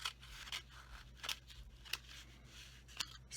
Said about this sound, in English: So use my scissors. I cut across where I had cut these two